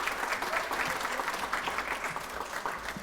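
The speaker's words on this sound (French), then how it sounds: "On peut applaudir Martine." A festival audience keeps up steady, even applause for a volunteer from the organizing committee, a full crowd clapping at moderate distance without a break.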